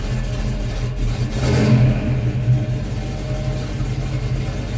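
An already warmed-up Buick 350/455 V8 revs up and settles back to idle, a loud, close rumble with a swell in the middle and no talk.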